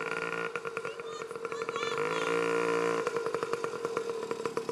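A small child-sized motorcycle runs close by as a little boy rides it, its buzzy engine puttering unevenly and rising in pitch, with voices in the background.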